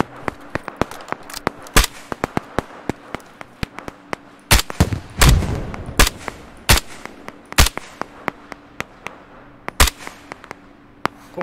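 Rifle and pistol gunfire in the video game Operation Harsh Doorstop, sharp isolated shots at irregular intervals with a couple of heavier blasts midway, loud and close against quiet background.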